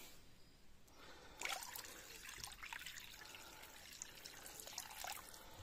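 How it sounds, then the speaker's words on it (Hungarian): Water poured over chopped herbs in a container, a faint steady trickle and splash running throughout, slightly stronger in the middle, with no voices. "az egészet még felöntöm vízzel, hogy teljesen lepje el"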